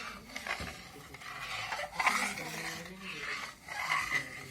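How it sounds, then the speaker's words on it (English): A spoon scrapes and rubs around a pan while makhani gravy with garam masala is stirred, making intermittent close scraping strokes with small metallic clinks, moderately quiet. "Mix it once again."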